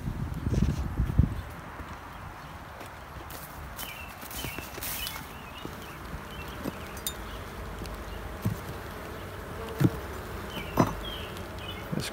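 Honeybees buzzing inside an opened nuc box while new queens are installed, a steady low insect drone close by with occasional louder passes and handling thumps.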